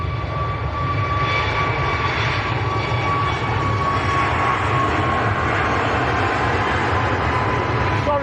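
Airliner rolling down the runway at Manchester Airport for takeoff, a steady broad jet roar with a thin high whine, loud and continuous from start to finish, with faint voices under it.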